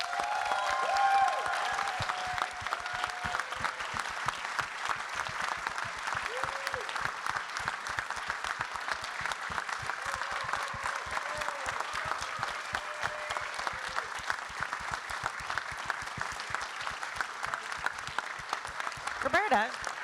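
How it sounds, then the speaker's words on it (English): A large gala audience at a media technology summit gives a long, sustained round of applause for a retiring colleague, dense even clapping at moderate distance with a few faint voices mixed in. "And so we owe a huge round of applause"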